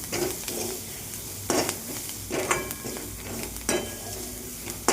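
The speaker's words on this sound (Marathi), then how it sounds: "छान असं परतून घेतलं का कोथंबीर" Leftover chapati pieces being stir-fried in a pan, heard as a continuous close sizzle broken by several scraping and clanking strokes of a spatula against the pan, with no talking.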